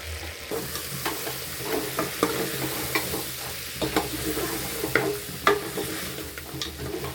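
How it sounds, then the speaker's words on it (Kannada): Mutton fries in a pan with coriander and chili powder masala, giving a continuous close sizzle broken by repeated stirring scrapes and clinks of a spatula against the pan, with no talk. "ಧನಿಯಾ ಪುಡಿ, ಮೆಣಸಿನ್ಕಾಯಿ ಪುಡಿ ಇದೆಲ್ಲ ಚೆನ್ನಾಗಿ ಮಟನ್ ಹಿಡಿದು ಚೆನ್ನಾಗಿ ಫ್ರೈ ಆಗುತ್ತೆ"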